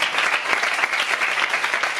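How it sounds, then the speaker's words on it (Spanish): Congregation applause in a church service, a dense, steady wash of many hands clapping together, fairly loud and close, with no voices over it. "un aplauso al Rey en el nombre de Jesús"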